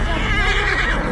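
A horse neighing nearby, a short loud whinny with a wavering pitch that fills the whole brief moment.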